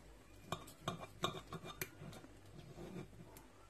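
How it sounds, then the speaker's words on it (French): A knife clinks and taps against the dish while slicing a cooked turkey paupiette in a tagine, producing several sharp, quiet metallic ticks in the first two seconds, then fading into soft scraping with no voices. "je vais essayer de vous couper une paupiette juste pour vous montrer l'intérieur, comment c'est cuit"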